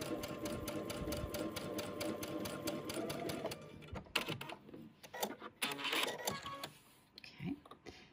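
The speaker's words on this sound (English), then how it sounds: "Now all I'm gonna do is just sew that quarter inch seam" A home sewing machine runs a quarter inch quilting seam on a butterfly quilt, a rapid, fairly loud rhythmic stitching chatter that stops partway, followed by quieter handling clatter.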